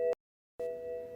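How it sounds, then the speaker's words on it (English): 2009 BMW Z4 35i tire pressure sensor warning chimes, two short electronic tones separated by a brief gap, clear but fairly quiet. "Those two chimes are going to be my tire sensors."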